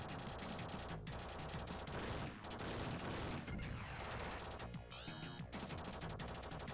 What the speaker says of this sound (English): I used a rocket attack there because my gun energy is running a little low